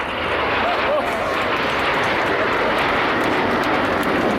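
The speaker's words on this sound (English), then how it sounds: "to your right, there's a lone jet, that is Red 9, who's going to fly in the Goose." A lone Red Arrows display jet, Red 9, roars overhead in a steady, loud, broadband rush of engine noise that fills the whole span without a break.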